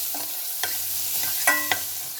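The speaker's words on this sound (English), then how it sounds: "And then it starts to splutter, and then you just shake the pot around, stir, if you will." Spices splutter and crackle in a pot of hot oil while the pot is shaken and stirred for turmeric milk, with a few sharp pops standing out over a soft, steady sizzle.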